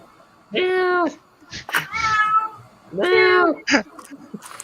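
A cat on a farm gives two loud, drawn-out meows, with short bursts of people talking nearby between them.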